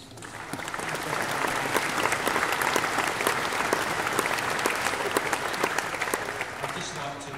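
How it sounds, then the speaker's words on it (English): Sustained audience applause fills a hall at an awards night, a dense, steady clatter of many hands clapping throughout without letting up, fairly close and loud. "So once again, if you could put your hands together for the DTC and Chris Beard and his crowd"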